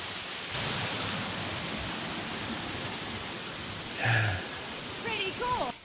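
Water spilling down off rocks beside a forest creek near a waterfall at Bandy Creek Campground, Big South Fork, a steady close hiss like heavy rain, with a voice briefly speaking near the end.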